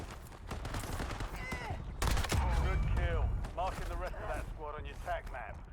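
Gunfire from bots fighting each other in the Call of Duty Warzone video game, with bursts of shots and rattling fire that grow louder around the midpoint, heard under steady voices and game chatter.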